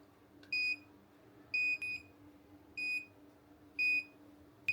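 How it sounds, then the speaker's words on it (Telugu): An automatic hair styling device signalling with clear electronic beeps: four evenly spaced high-pitched tones, the second followed by a quick extra beep, ringing out alone over a faint steady hum. "అది కాసేపటికి బీప్ సౌండ్ ఇస్తుంది అనమాట."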